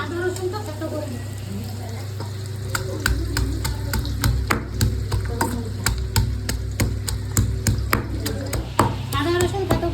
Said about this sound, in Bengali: আলুটা ভাজা হতে হতে এদিকে আদা রসুনটা থেতো করে নেব।